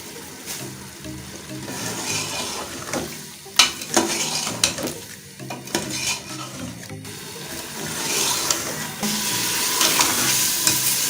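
Aloo keema fries with whole garam masala, a loud, dense sizzle layered with repeated scraping and stirring knocks of a spoon in the pan; the hiss swells stronger toward the end.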